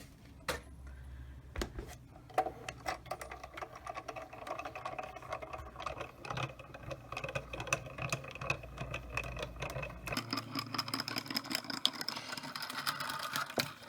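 Card stock fed through a hand-cranked embossing machine for a thank-you card, giving a steady mechanical rattle and clicking grind that runs continuously through the clip, close and moderately loud, with no talking.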